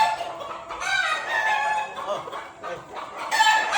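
Several chickens cluck and squawk close by in a busy, overlapping chorus, with no pause in the noise.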